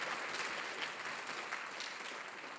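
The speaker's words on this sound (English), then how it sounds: "Give them a round of applause." Audience applause for middle school band teachers at a battle of the bands event, a steady dense clapping from a crowd that holds evenly throughout and fades only slightly at the end.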